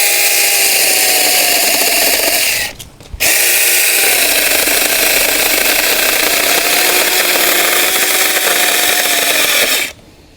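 A mini chainsaw cuts an areca palm trunk with a loud, close, high whining buzz that holds steady, cuts out briefly, then resumes and runs on before stopping near the end.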